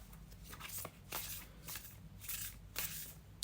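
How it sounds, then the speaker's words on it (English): Tarot deck being shuffled for a card reading, a steady run of soft riffling and sliding card swishes with brief crisp bursts, close and fairly quiet, with no talking. "let's now shuffle with intention for today's reading"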